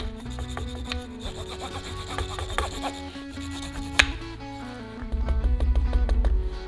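Steady wooden slicker rubbing and rasping strokes along leather stitching on a wrapped tool handle, a dry scraping rhythm with occasional light clicks and a low hum beneath.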